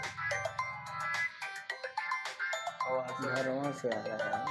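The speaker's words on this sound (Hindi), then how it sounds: "किसका फोन है?" Mobile phone ringtone playing a bright repeating melody that interrupts a Class 10 science lesson, loud and close with people talking over it.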